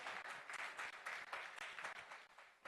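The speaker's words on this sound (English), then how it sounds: "please welcome Dr. Mohammed Mazen Batterjee onto the stage with a round of applause." Audience applause at a global leaders awards summit as a speaker is welcomed onto the stage: a dense, steady wash of many hands clapping, heard from a distance at low level with no talk over it.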